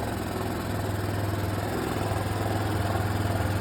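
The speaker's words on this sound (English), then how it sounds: "It's running and it's idling." A small engine fitted with a Chinese carburetor idles at raised speed while warming up, giving a close, steady low-pitched thrum with an even pulsing rhythm throughout.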